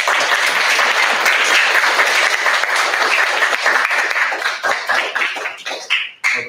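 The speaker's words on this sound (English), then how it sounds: "So again, just a round of applause" A school audience claps at a winter concert, dense applause rolling steadily for several seconds before thinning out into scattered last claps.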